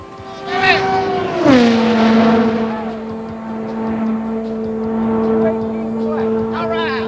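An Oldsmobile Aerotech Quad-4 record car engine roars at high speed on a closed course, a steady high-pitched drone with a sharp pitch drop early on as it shifts or passes close by.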